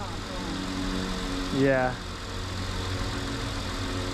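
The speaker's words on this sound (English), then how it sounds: "does my engine sound like anything's wrong with it?" A Buick car engine idles steadily, giving a continuous low, even hum close by, with a short spoken word breaking in near the middle.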